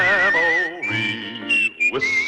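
Melodic whistling from the Tombstone Territory Western television theme song, a clear sustained tune with sliding phrases and short breaks, played alone without talk.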